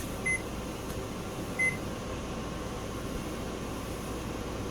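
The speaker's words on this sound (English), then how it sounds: "Eric's getting the oven, so you click bake" An oven's control panel gives two short, clear electronic beeps about a second and a half apart as it is set to bake, over a steady low room hum.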